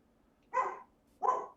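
A dog in the street gives two short barks about three quarters of a second apart, fairly quiet and somewhat distant.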